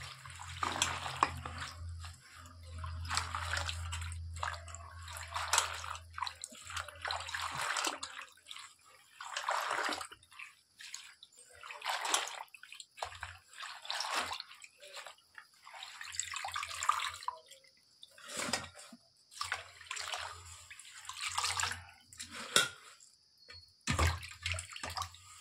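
Sorrel (gongura) leaves washed by hand in a bowl of water, giving close, intermittent splashes, swishes and drips in irregular bursts. Quiet gaps come between the bursts, and no voices are present.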